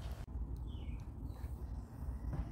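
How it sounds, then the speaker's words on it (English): Birds sing faintly in the morning, thin scattered chirps and short whistled phrases over a quiet, low background hum. "I'm listening to the birds this morning."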